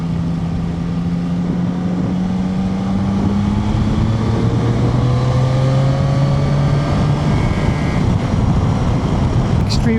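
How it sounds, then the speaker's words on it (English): A Yamaha Tracer 9 GT Y-AMT motorcycle engine, a 2025 model, drones steadily while riding, with rising tonal engine notes under heavy, constant wind rush for the whole stretch. "It's got a nice enough tone to it, but yeah, it's kind of a very, very sporty sounding engine"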